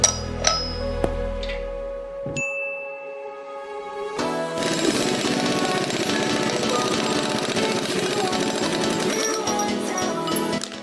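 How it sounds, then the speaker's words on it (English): An impact wrench breaks loose the 54mm flywheel nut on a Mazda RX-7 FC3S rotary engine. A few sharp metallic knocks come first, then a loud, sustained hammering rattle runs close up for several seconds. "After removing the giant 54mm nut that secures the flywheel"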